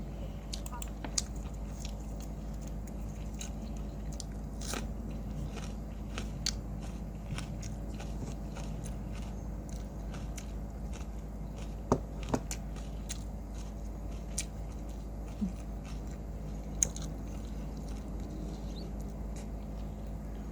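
Fried Thai Isan sausage is eaten up close: faint, irregular bites and small crunchy chewing clicks over a low steady hum, with talking around them.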